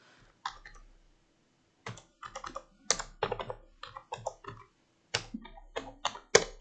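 Typing on a computer keyboard while entering text in Microsoft Word, heard as close, crisp key clicks in short bursts and clusters separated by brief pauses, with no voices.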